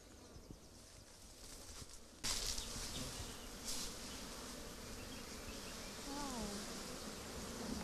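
Honeybees buzz in an opened top-bar beehive in Ghana, a continuous dense hum that swells louder partway through, with faint voices in the background.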